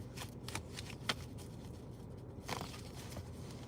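Tarot cards are shuffled by hand in a quiet room, a string of soft riffling flutters and light slaps, with a sharper snap partway through.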